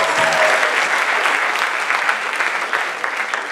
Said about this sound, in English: Give me a round of applause for the fresh professor over here